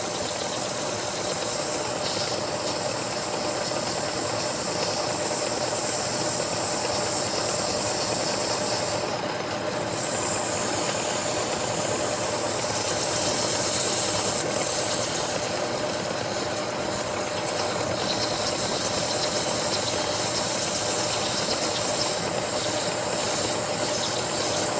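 Polishing a Colt engine part on a lathe, a continuous loud hissing whir with steady machine hum that holds for the whole stretch, slightly swelling midway, without talk.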